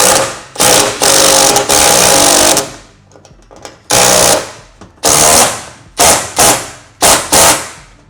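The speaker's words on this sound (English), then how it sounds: "And then you can use an impact or something to just tighten this bolt, and this is going to compress the plus nut." An impact wrench tightens a plus nut tool bolt while fitting Weather Guard Lo-Side boxes on a Ford F-150, firing in loud, close rattling bursts, a long run followed by several shorter hammering pulses separated by pauses.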